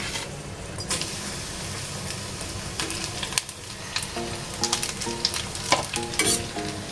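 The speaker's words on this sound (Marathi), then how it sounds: "आता गॅस थोडासा स्लो करायचा आणि आपल्याला खोबरं भाजून घ्यायचं आहे।" Grated coconut roasts in a pan over low heat for a spicy peanut-coconut garlic chutney, a steady, soft frying hiss with intermittent scraping stirs and light clicks growing busier toward the end, with no talk.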